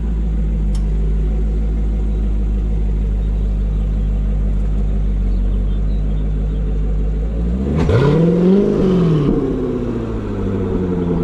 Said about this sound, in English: Listen to that Corsa exhaust.